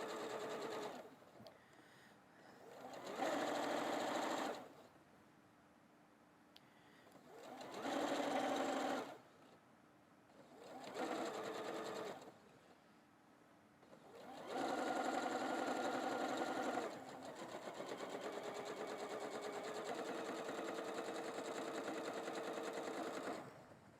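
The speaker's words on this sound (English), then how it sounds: "as you're sewing the flange, you want the flange to be straight" A sewing machine stitches flange binding onto a quilt in several separate bursts of steady, close, fast whirring, with quiet pauses between runs and a longer final run.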